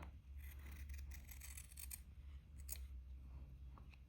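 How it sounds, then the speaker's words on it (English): Scissors trim the fabric of a cross-stitch ornament, a quick series of crisp snipping cuts heard close and quietly, several snips bunched together with short gaps between. "I'm going to trim this part down just a little bit more."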